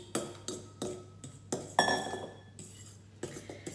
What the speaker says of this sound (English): Now gently with a fork, I'm going around and I'm mixing the wet with the dry